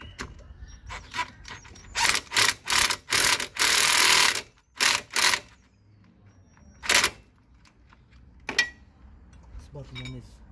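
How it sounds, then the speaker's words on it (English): An impact gun drives in the brake caliper bolts on a Ford Focus, firing in a series of loud, short rattling bursts followed by a longer run, then a couple of isolated hits with quiet workshop clatter between. "we're just going to use a gun to drive the bolts in."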